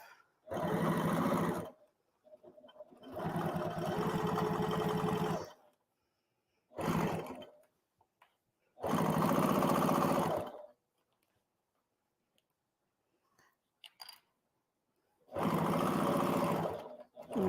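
An HD9 sewing machine stitches through a double layer of leather in several loud bursts of a second or two each, separated by quiet pauses with faint clicks.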